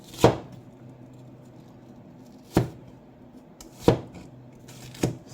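Knife chopping an onion into thin julienne slices on a cutting board: four separate sharp cuts spaced a second or more apart, close and clear over a faint background hum.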